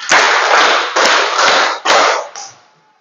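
A classroom of students claps together in a rhythmic five-count pattern, loud and close. The dense clatter of many hands comes in several strong bursts, then fades out, with no talking over it.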